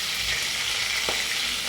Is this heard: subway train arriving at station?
no